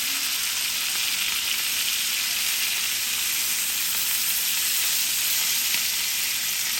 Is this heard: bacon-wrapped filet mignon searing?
yes